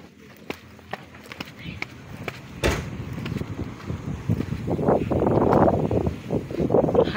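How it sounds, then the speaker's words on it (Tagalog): Strong wind gusting on a beach with big waves, blustering roughly into the microphone and swelling louder in the second half, with people talking close by and thumps of movement. "Hangin, mahangin."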